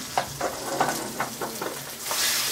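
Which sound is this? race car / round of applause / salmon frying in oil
salmon frying in oil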